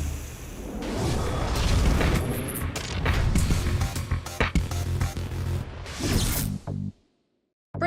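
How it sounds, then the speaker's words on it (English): A loud, close explosion blasts apart a shed, followed by crashing debris and sharp cracking impacts for several seconds before cutting to near silence. "This explosion produces a pressure wave that travels at the speed of sound."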